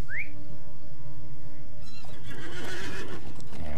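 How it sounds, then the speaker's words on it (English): A horse in the video game LOTRO lets out a loud, close whinny, followed after a short pause by a flurry of hoof clops and movement. "So let us pull out our horse."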